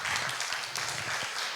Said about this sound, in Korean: 목사님 나오실 때 큰 박수로 환영 부탁드리겠습니다